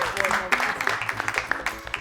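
A studio audience claps for a spelling champion on a children's quiz show, brisk rhythmic handclaps running throughout under a voice speaking over them.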